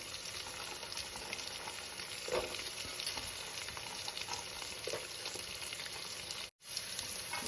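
Green chilli, beans, carrot and capsicum pieces sizzle steadily in a pan for vegetable rice as they are stirred, a constant close hiss with soft scraping and a brief dropout near the end.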